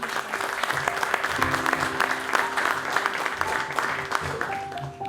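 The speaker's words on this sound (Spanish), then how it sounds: "Un aplauso, por favor." Audience applause fills a room before a presentation on adding value to berries, a sustained crackle of many hands clapping at moderate volume with a faint steady tone running beneath.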